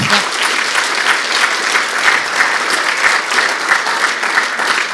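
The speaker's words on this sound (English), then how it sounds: "massive round of applause to kick things off" A crowd at a community pitch event in Geelong breaks into loud, dense applause, many hands clapping at once in a sustained wash that holds steady for the whole stretch.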